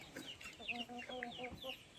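Rhode Island Red and White Leghorn cross chickens cluck and chatter close by in a steady run of short calls, with some faint rustling in the background.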